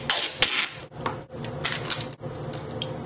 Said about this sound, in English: I'm going to be cutting the scotch tape in bits